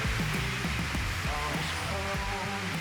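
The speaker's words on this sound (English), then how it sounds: "Never mind the rain noise." Heavy rain patters continuously on a hard surface, a dense steady hiss with scattered drips close by.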